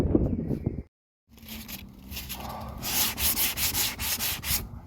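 Hand sanding a scuffed car bumper outdoors during a spray-can repair: rapid back-and-forth rasping strokes, close and fairly loud, building into a steady rhythmic scrubbing after a brief pause.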